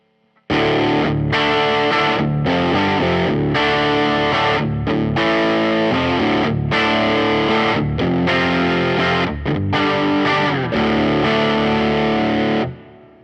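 Electric guitar played through a Fender Mustang Micro Plus headphone amp on its Driven Deluxe preset, a loud, crunchy overdriven tone with reverb, strummed in chord bursts and short phrases with brief gaps, alone without talk.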